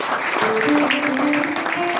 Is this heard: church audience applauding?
yes